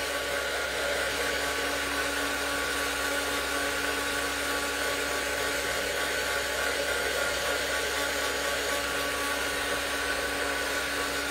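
A heat tool dries a freshly painted art journal page, blowing a steady, loud whir that runs unbroken for the whole stretch with no talking over it.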